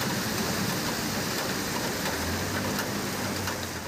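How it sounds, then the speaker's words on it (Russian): A heavy rain downpour on the streets of Tver, with flooded roads, makes a dense, loud, continuous roar of falling water that stays steady throughout, without speech. "Дождь оказался настолько сильным, что улицы Твери превратились в сплошное озеро."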